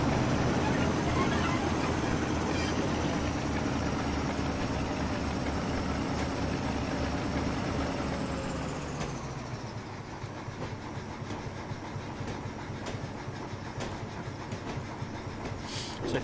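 A train in a simulator game runs steadily with a continuous engine drone and rumble, its tone dropping and fading about nine seconds in, followed by quieter, busier rail noise.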